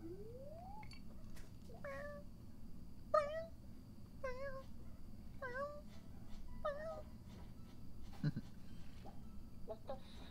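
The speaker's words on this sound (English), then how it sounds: "It sounds like a cat meowing." A cat meows repeatedly in the video game Stardew Valley, about seven short rising-falling cries spaced evenly, over a faint steady background hum.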